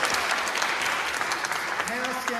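Dense, loud applause fills a concert hall after an a cappella group's 30th anniversary performance, sustained clapping with voices and a few whoops mixed in.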